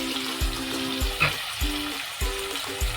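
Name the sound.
ginger garlic paste frying with capsicum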